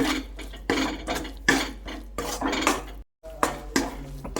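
Coconut spice paste is stirred in a pan with a utensil, making loud, close, rhythmic scraping and clattering strokes that continue steadily apart from one brief break.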